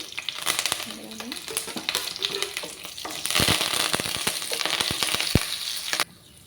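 Red chilli, mustard seeds, cumin and curry leaves are tempered in hot oil. The sizzle is close, with sharp pops and crackles of seeds spattering, then it swells and cuts off abruptly near the end.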